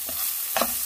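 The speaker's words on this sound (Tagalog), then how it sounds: "Then fry." Asparagus frying in olive oil with black pepper gives a steady low sizzle, with a couple of brief stirring scrapes in the pan.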